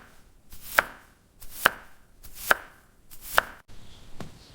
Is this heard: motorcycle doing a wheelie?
no